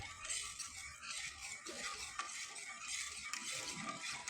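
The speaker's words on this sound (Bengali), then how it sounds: "তাই অনবরত এভাবে নেড়েচেড়ে নিতে হবে।" Rice paste for reshmi pitha stirred continuously in a pan over low heat, a steady scraping and soft sizzling with no talking.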